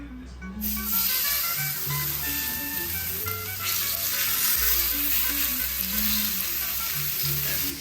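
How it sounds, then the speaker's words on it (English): Seasoned steaks seared in a well-heated pan give a steady, loud frying sizzle with sputtering hiss that runs continuously throughout. "we got a pretty heated pan here, and we're going to drop them in"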